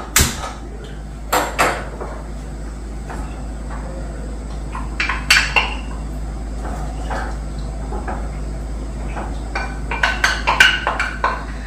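Cooking pots and utensils clatter in scattered sharp metallic knocks and clinks at a farmstay, some close and loud, over a steady low background hum.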